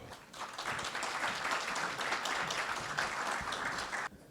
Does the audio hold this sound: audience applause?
yes